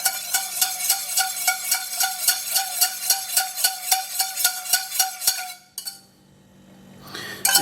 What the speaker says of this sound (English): I'm just going to keep whisking this